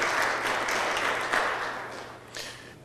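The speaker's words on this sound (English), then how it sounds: "let's give Lenny a round of applause." Sustained applause fills a sister city ceremony between Medan, Indonesia and Milwaukee, Wisconsin, a dense steady wash of many hands clapping that swells briefly near the middle and again toward the end.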